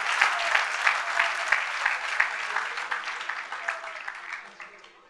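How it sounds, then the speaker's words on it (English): An audience at the E-Summit 2014 entrepreneurship event gives a big round of applause after a talk, a thick wash of clapping that gradually thins and fades out. "Can we have a huge round of applause for his talk?"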